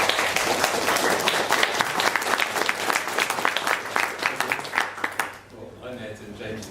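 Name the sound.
audience applause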